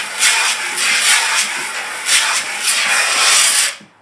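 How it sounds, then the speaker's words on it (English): Garden hose on its jet setting blasting into a mix of garden sulphur, a loud continuous spraying hiss with surging pulses as the water churns the liquid, cutting off abruptly at the end. "I'm just using a regular garden hose. I have it set on jet so that it agitates it."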